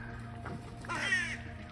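A crow caws twice, close and loud, the second call longer and harsher, set against a quiet outdoor hum with no talking.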